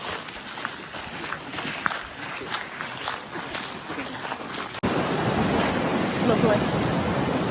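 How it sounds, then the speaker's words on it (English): Strong wind roars outdoors in Iceland, a constant gusty rush buffeting the microphone that swells louder partway through, with a brief spoken word near the start. "It was very windy this day"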